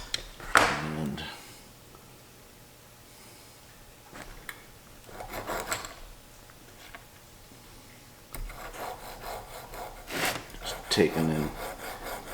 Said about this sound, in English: gently filing on the side of the keyway here